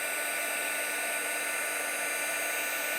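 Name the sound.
heat gun blowing hot air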